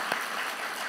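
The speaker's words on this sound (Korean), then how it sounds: "격려의 박수 보내주십시오." A church congregation applauds a missionary couple during a Korean Christmas worship service, a brief, steady wash of clapping at moderate distance.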